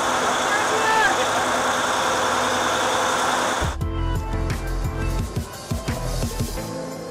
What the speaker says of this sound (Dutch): 2 motoren, 2 keer 1200 pk.